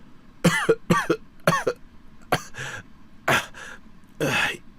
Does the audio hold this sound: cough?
yes